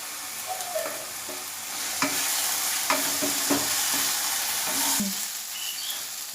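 Masala spices for an okra dish sizzle and fry steadily in a pan, close and loud, while a utensil stirs and scrapes with occasional knocks.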